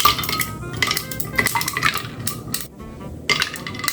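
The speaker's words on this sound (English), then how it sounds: "And now you want to add your ice." Ice cubes drop into a dish with bright clinks and clatters, coming in several quick bursts with short pauses between them, close and clear, with no talking.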